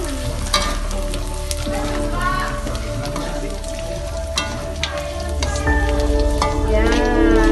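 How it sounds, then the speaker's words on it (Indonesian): Anchovies sizzle and crackle as they fry in hot oil for an Acehnese dish, with steady loud bubbling and intermittent scraping of a spatula as they are stirred. "Ini kalau goreng teri itu emang harus diaduk-aduk loh."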